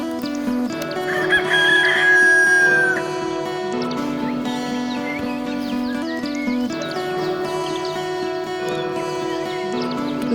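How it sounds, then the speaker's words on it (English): A rooster crows loudly and close among clucking chickens, with a long drawn-out call early on and steady busy clucking and chatter from the flock throughout. "Little chickens."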